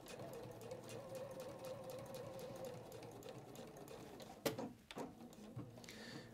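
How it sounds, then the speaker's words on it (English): A domestic sewing machine stitches along a seam line, humming steadily at an even speed, close and fairly quiet, then stops with a few clicks and handling noises at the end. No one speaks. "Yes, so just sewing along the same seam line as we did before."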